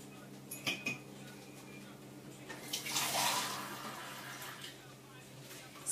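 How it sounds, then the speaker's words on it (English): Water poured from a mug onto rice in a pot while roasting chicken, a brief splashing gush in the middle of a quiet kitchen, preceded by faint clinks. "I'm just going to go ahead and spread the water onto my rice."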